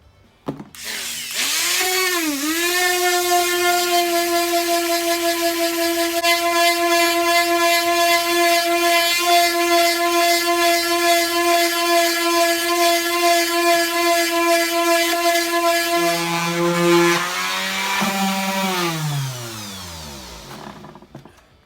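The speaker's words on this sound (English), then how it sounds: "Now I shall fine sand this down, get it dead level with that ferrule there, trim it off" Snooker cue spinning on a lathe while a new leather ELK Master tip is fine-sanded level with the ferrule, a loud steady whirring hum that winds up, holds for about fifteen seconds, then drops in pitch and spins down.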